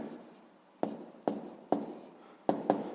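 Pen strokes on paper while writing out a sixth-grade math solution, five short scratchy marks at an uneven pace, close and clear with no talk.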